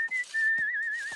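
A person whistles a sustained, wavering tune alone, with short breaths or mouth noises between phrases, close and fairly loud.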